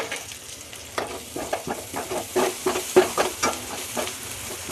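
A spoon scrapes and stirs through curry in a pan with a rhythmic series of strokes over a faint sizzle, close up and alone.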